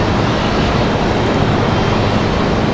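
A passenger airliner arriving at Raleigh-Durham International Airport, heard as a steady, loud, broadband engine roar that holds evenly throughout with no talking.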